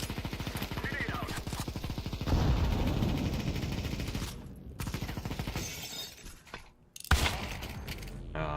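A grenade detonates in a video game firefight, a loud, sudden blast with a crashing, shattering burst of debris, followed a few seconds later by another sharp impact amid ongoing gunfire and faint voices.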